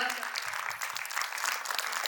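Audience applause at a children's Kannada folk song vocal performance, a steady wash of many hands clapping for about two seconds, fairly loud and dense, with no talking over it.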